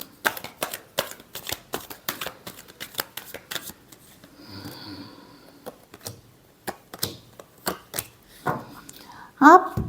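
A deck of tarot cards is shuffled by hand in quick, crisp riffles up close, followed by a quieter pause, more scattered flicks and a sharp final burst.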